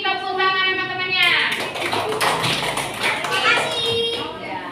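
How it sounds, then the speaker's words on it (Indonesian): Classmates in an Indonesian school classroom clap their hands together after a group presentation, a loose burst of many hands that follows a spoken prompt, with children's voices chattering over and around the claps. "Oke, beri tepuk tangan teman-temannya."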